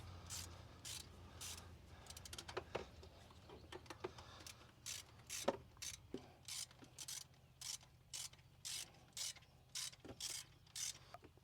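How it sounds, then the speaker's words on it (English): A ratchet fitted with a 12 mm socket, 6-inch extension and flex head clicks steadily while loosening a nut on a Honda, sharp repeated pawl ticks in short bursts, close and fairly loud with no talk. "I have a number 12 millimeter with a 6-inch extension and a flex head on my ratchet"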